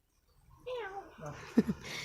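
A cat gives a short rising meow that breaks into a couple of sharper cries, close and fairly quiet, with faint talking mixed in.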